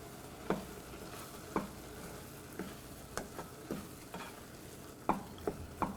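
A spoon stirs crushed green mustard into cooked mango for mango pachadi, giving soft, separate scraping clinks against the pot about once a second over a quiet background.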